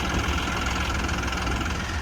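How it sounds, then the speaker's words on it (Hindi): A John Deere 5405 4WD tractor with an AC cabin idles in a steady, even rumble with a faint knocking pulse. The engine sounds close and stays unbroken throughout. "एक बोलेरो कार जितनी तो भाई ट्रैक्टर की आवाज़ है"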